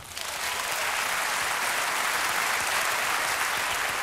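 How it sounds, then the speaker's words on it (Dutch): A theatre audience at a Sinterklaas-themed comedy show breaks into loud, sustained applause, a dense and even roar of clapping that holds steady throughout. "Hier, geef die mensen een applaus."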